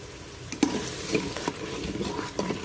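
Curry paste being stir-fried with coconut milk in a pan, a soft sizzle under repeated spatula scrapes and clinks at irregular intervals, close and unaccompanied by speech.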